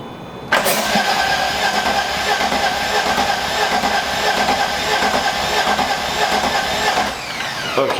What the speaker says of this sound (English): Let's see if she starts, and then if she starts, let's see if she will rev up, come back down, and then maintain idle and not die out.